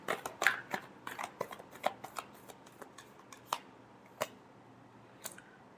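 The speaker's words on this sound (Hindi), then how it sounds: "Last shuffle." Tarot cards shuffled by hand, with a quick run of crisp riffling snaps and flicks that thin out into a few scattered taps, close and fairly quiet with no talk.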